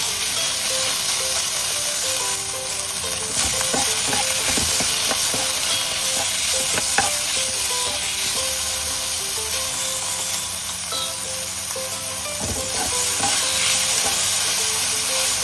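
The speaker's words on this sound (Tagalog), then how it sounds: "Once mainit, ilagay na natin ang ating pork. I-stir fry lang natin ito." Pork stir-fried in hot oil in a frying pan, a steady close sizzle and hiss running throughout with scattered scrapes and clinks of stirring.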